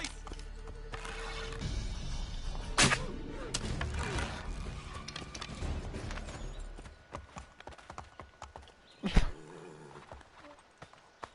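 Horse hooves clip-clop in Assassin's Creed III Remastered, a quick rhythmic gallop that fades and slows toward the end, with in-game voices and sharp impacts mixed in.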